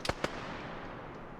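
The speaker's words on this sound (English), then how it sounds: "Hearing a large amount of gunshots over here." Two quick gunshots crack out from Arma 3 combat, sharp and moderately distant, followed by a lingering wash of ambient battlefield noise with no further distinct shots.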